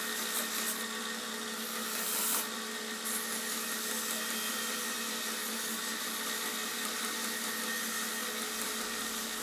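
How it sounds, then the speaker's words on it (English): A belt grinder with a 1-inch scalloped belt polishes a khopesh sword blade on the slack of the belt. The machine gives a steady, fairly loud whine and hiss, with a brief harsher surge of contact partway through. "I'll use a 1-inch scalloped belt on the slack just to kind of polish things out and work the little details"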